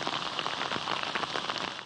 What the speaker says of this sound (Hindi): लाहौर में मुसलसल दूसरे रोज बारिश की झड़ी।